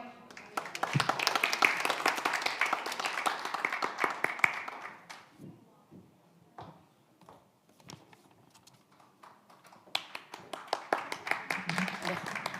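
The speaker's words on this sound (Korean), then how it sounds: "큰 박수로 맞아 주십시오" Audience at a Korean news outlet's anniversary event applauds to welcome a special lecture speaker, a strong round of clapping that fades, then scattered claps and footsteps, and a second swell of clapping near the end.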